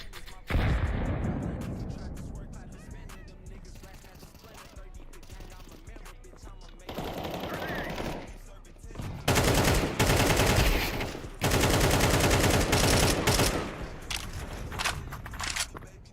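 Gunfire from Counter-Strike 2 rattles in sustained loud bursts of rapid shots, broken by brief quieter pauses between volleys.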